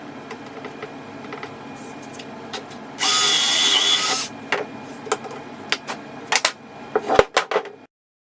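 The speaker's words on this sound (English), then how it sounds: "I am drilling 4 pocket holes along the length of those 2x8 boards" A drill runs in one sustained burst of about a second while boring pocket holes into 2x8 wooden boards with a Kreg jig, surrounded by scattered clicks and knocks of handling the tool and wood.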